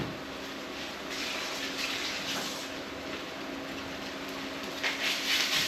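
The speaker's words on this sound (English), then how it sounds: "give my hands a quick wash because it was a bit juicy" Hands being rinsed under a running kitchen tap after handling raw pork belly, a steady close hiss of flowing water with brief splashy swells and no talk.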